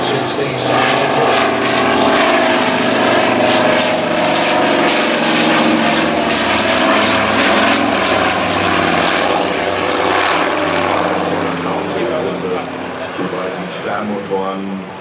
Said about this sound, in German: Luftwaffe operating this aircraft.